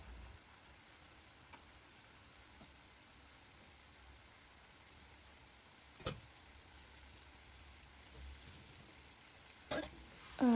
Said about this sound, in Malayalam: ഈ കഴുകി വെച്ച ചിക്കൻ അതിലേക്ക് ഇടുക